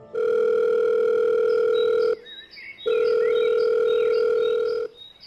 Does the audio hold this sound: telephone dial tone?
yes